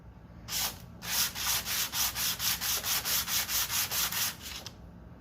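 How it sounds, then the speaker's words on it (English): An engine intake flange is rubbed flat across sandpaper on a flat surface in steady back-and-forth strokes, about a dozen even, close scraping passes with no talking. "Same thing, flat surface sandpaper."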